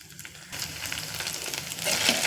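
Ginger and garlic fry in hot oil for a prawn and gongura dish, a steady hiss that swells louder after a brief quieter start, close and alone.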